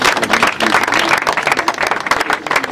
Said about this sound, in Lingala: Est-ce que nous pouvons acclamer notre Dieu très fort?